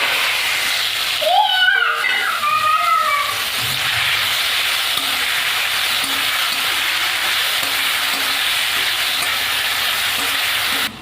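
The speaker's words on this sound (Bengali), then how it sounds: "এবার মাছগুলো ভেজে নেব।" Fish seasoned with salt and turmeric frying in hot oil in a wok, a steady close sizzle throughout, with brief high squeaky scraping sounds near the start.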